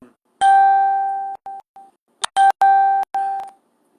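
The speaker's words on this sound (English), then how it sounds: "My phone's rebooting, so it's got some old messages coming through." A phone rebooting chimes out a string of electronic notification tones: one long steady beep, a few short blips, then a quick burst of several loud clipped beeps, close and clear with no talking.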